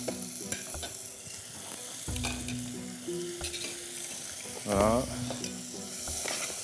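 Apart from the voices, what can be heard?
onions frying in oil in a pan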